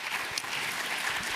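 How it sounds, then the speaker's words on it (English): A brief burst of dense, loud applause from a summit audience, many hands clapping together in an unbroken roar with faint crowd murmur beneath. "Let's give a big, huge round of applause for Roya."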